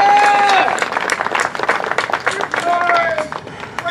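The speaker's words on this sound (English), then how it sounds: "let's give a big round of applause to Byron Cherry, Coy Duke." Crowd applause and clapping at a Hazzard County cars-and-stars track event, dense and sustained across the whole stretch with voices and whoops mixed in.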